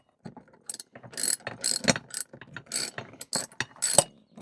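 A socket wrench ratchets on bolts while a retractable garden hose reel is mounted in a front yard, giving irregular bursts of close, crisp metallic clicking with short pauses between strokes and no talk.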